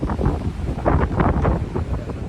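Strong sea wind blowing near the coast, rumbling and buffeting the microphone in loud continuous gusts.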